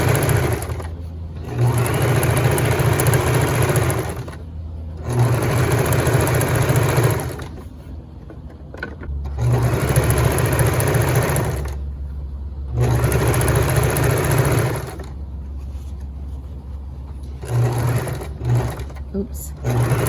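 A sewing machine hums in repeated steady runs while understitching a waistband, each stretch of stitching broken by short pauses, with a person speaking at times.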